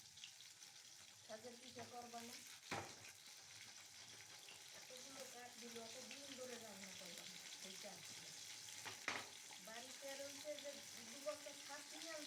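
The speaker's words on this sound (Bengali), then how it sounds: "দেখো বন্ধুরা, আমি মাছটা ভেজে নিচ্ছি" Fish frying in a hot pan on a gas stove, a steady soft sizzle running throughout with a few sharp clatters, while someone talks over it.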